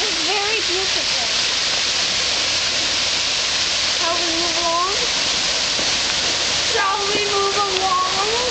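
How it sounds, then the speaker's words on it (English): A waterfall along a forest fern canyon trail at the San Diego Zoo, a loud, constant broadband rush of falling water with people talking and exclaiming over it at several points. "It's another waterfall."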